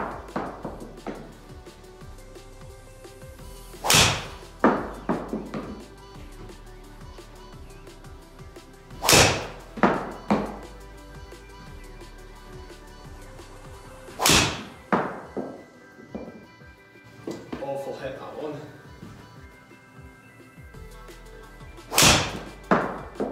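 Golf driver shots struck with a Callaway Epic Flash driver, five sharp loud impacts spaced several seconds apart, each a crisp thwack followed by a short ring, over quiet outdoor background.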